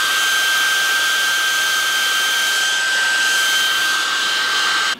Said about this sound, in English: There's a couple seconds with the hairdryer really made a difference.